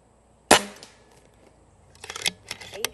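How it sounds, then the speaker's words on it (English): A JTS Airacuda Max air rifle fires at a target in a backyard range, giving one sharp, loud close-up crack followed by a quieter stretch, then a flurry of metallic clatter and clicks. "I'm going to take a couple shots at the center bowl"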